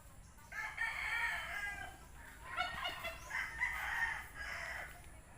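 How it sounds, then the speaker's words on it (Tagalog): Several chickens cluck and a rooster crows nearby, overlapping calls in bursts against a quiet outdoor background. "daming manok"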